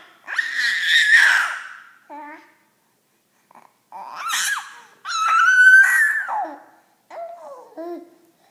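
A young child screams and babbles in short loud bursts separated by silent pauses, some cries high and shrill, others shorter and wavering, heard close up.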